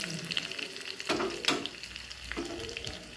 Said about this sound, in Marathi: तेल गरम झाले त्यामध्ये तिखट जिरं, लसण घालून घ्यायचा. तो छान तळू द्यायचा.